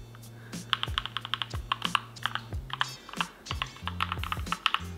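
Typing on a Keychron K2 mechanical keyboard, close and crisp, with quick bursts of clacking keystrokes separated by short pauses and a few deeper thocks, and no talk.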